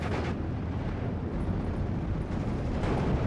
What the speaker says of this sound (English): with that combined airstrike of the rockets and bombs, we're able to push onto the town